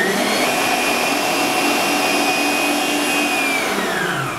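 An electric mixer beats marble glaze icing at high speed, a loud, steady motor whine with a sustained high tone that drops slightly as it winds down near the end, with no talking.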